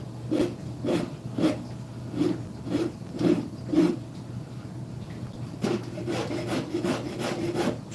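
A file chamfers a wooden edge in rhythmic back-and-forth rasping strokes, close and clear, about one stroke every half second with a short pause midway.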